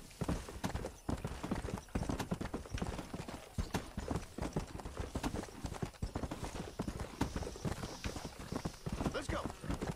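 Horse hooves clip-clop steadily in the video game Red Dead Redemption, a fairly quiet, continuous rhythm with someone talking over it.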